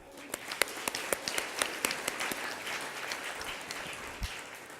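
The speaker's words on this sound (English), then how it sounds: "May we then appreciate all the participants, the panelists, with a clap." Scattered audience clapping for panelists at a scientific plenary session, individual sharp claps standing out over a soft, thin crowd, fairly faint and distant.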